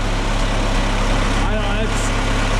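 A John Deere-free D-17 tractor engine idles steadily after a cold start on a near-freezing day, a continuous low rumble running throughout with a brief higher whine partway through.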